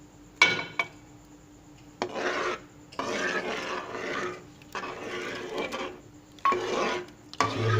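Chopped strawberries tumbling into a pot of cooled kulfi mixture, heard as a series of short wet rasping, scraping bursts of spoon against pot, near and moderately loud with pauses between, no talking.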